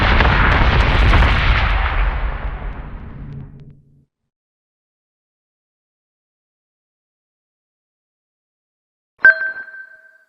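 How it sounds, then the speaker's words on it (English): Incoming missiles and explosions in the space combat video game Battlestar Galactica Deadlock: a loud, rumbling blast that fades out over about four seconds, then silence, then a sharp, ringing impact with a short decaying tail. "Missiles incoming!"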